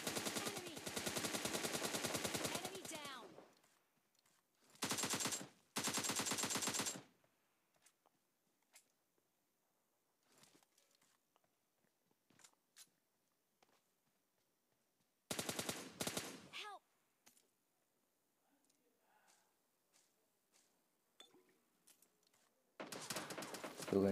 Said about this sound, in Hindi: मेरे पे फायरिंग आती है पीछे से पहाड़ी से